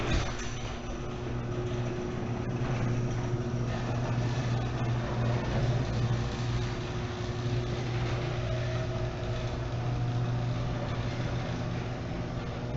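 A garage door opener motor running the door, a steady mechanical hum and whir with a low droning tone, continuous and close for the whole stretch, without talking.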